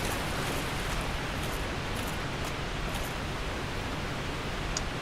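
Steady wash of broadband splashing noise throughout, like continuous footsteps through shallow water, fairly loud and unbroken, with faint higher clicks.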